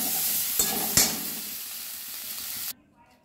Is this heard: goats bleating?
no